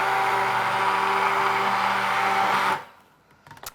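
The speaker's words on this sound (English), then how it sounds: "I'm just gonna keep blending until I get to that nice thick trace." A stick blender whirs steadily and loudly through hemp and aloe facial soap batter, then cuts off, leaving a quieter tail with a few small clatters.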